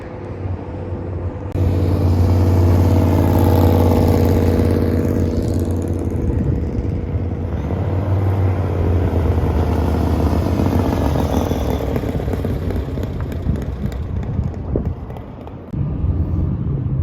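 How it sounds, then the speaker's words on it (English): A Bandolero race car engine drones loudly and steadily as it drives laps, a buzzy sustained roar that shifts slightly in pitch as it passes, with no talking. "letting the girls take a couple laps in their Bandolero"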